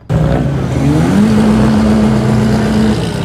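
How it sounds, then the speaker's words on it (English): A stock car with an aftermarket wing revs its engine at a California car meet, a loud, close, sustained rising drone that steadies into a held high idle before easing off at the end. "that wing ain't making your car any louder or any faster, so just stop revving it"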